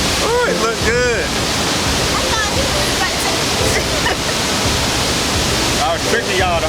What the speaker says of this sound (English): I figured a waterfall would be nice.